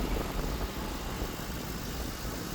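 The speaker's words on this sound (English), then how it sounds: "The motor sounds really good. Listen. Idling nice and smooth." A 2011 Ford Crown Victoria Police Interceptor idles with a low, steady, even rumble and no other sound over it.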